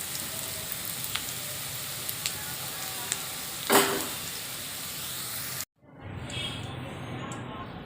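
Potatoes frying in hot oil, a loud, steady hiss and crackle with a brief louder burst, then a sudden cut before the sizzle resumes.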